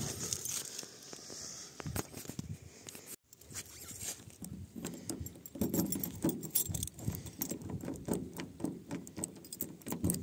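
Keys jingle and clatter in short bursts inside a truck as the heating is switched on during a winter carp fishing trip, close and fairly quiet, with a brief gap partway through and faint rustling around them.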